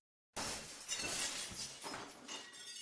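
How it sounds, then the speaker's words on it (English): A pane of glass shatters under a blow from a chair, a sudden loud crash after silence followed by clattering, tinkling fragments that keep falling and scattering. "hit the glass with all her might. There was a deafening crack"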